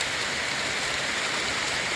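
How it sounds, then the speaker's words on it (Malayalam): Rain beginning to fall over a lush green hillside tea plantation, a steady, even hiss of drops that stays constant and fairly loud throughout, with no voices. "മഴ വരാൻ തുടങ്ങി."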